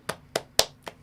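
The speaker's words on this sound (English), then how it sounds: "Can we all give a quick round of applause" Four single hand claps, evenly spaced and sharp, close by with no voices.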